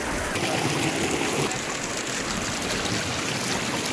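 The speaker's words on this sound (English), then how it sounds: "let's dip our toes in." Water in a hot travertine pool at Pamukkale, a steady close wash and trickle of flowing water with light splashing as bare feet dip in, with no talking.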